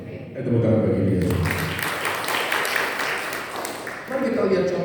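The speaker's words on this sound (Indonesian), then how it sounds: "Tepuk tangan bagi dia." Congregation applause at a Sunday morning church service, a broadband clatter of clapping that rises after about a second and fills most of the clip, with a speaking voice heard at the start and again at the end.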